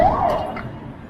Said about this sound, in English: oh boy, about to get run over by an ambulance.